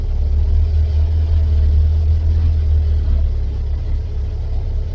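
A 1958 Volkswagen Beetle engine rumbles loudly from close range as the car drives along, a steady low drone with slight variations in pace.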